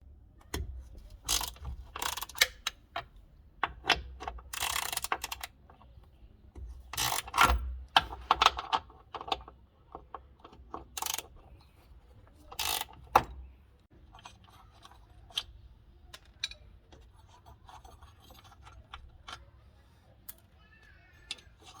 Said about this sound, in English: I'm gonna use the same ratchet to remove that guy out